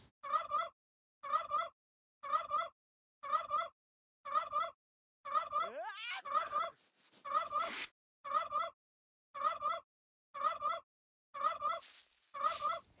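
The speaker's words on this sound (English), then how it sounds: "Sims can interact with turkeys." A turkey in The Sims Freeplay mobile game gobbles in a steady, evenly spaced series of about a dozen identical calls, clear and close, with a brief electronic sweep and chime midway.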